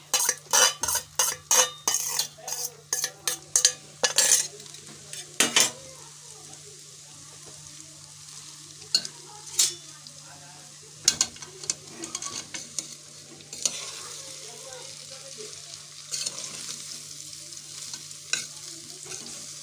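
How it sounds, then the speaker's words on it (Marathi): Metal spoon scraping and clacking against a pan while leftover rice is chopped and mixed with dried coriander, a run of sharp stirring knocks at first, then softer scrapes over a faint steady sizzle. "आता हा असा भात चिरून घ्यायचा मिक्स करून घ्यायचा सगळा"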